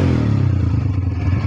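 An ATV engine with a slow-returning idle is revved hard, a loud, close, rough roar with chattering pulses through the short burst.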